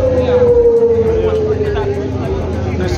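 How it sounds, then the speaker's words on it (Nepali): A wailing civil siren sounds through the streets of Ljubljana, Slovenia, its steady tone sliding slowly downward and holding loud and continuous over a low babble of city noise. "यति बेला चाहिँ साइरन बजाइएको छ हैन"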